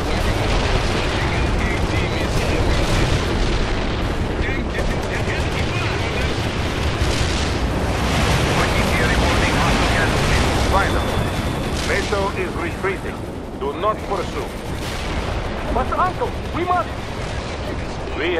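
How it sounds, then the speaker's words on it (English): Heavy barrage of anti-tank strike explosions and gunfire in the war game World in Conflict, a loud continuous roar of blasts and booms with radio-style voices talking over the battle. "Anti-tank strike is inbound."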